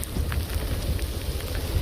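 Rain pours steadily on a rural road in Nayagarh on the way to a Vaishno Devi shrine, a dense, even hiss with scattered drop patters and a low rumble underneath.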